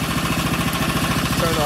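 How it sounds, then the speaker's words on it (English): A Predator 301cc engine fitted to a Snapper 8260 snowblower idles up close, a loud, steady, rapid chugging pulse that holds even throughout. "So I got the engine running."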